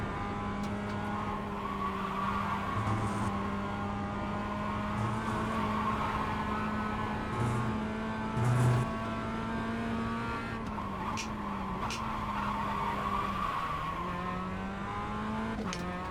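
A Mazda MX5 racing on a tight circuit, heard as a steady, fairly faint engine drone that holds through most of the run, then shifts pitch as the driver drops through the gears, with a few brief low thumps.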